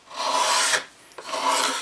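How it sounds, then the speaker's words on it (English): A flat scraper rasps across the wood of a painted chair in two close, dry strokes with a short pause between them. "I take my flat scraper, look for the good edge here"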